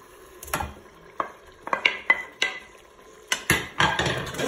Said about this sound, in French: Je vais mélanger tout ça.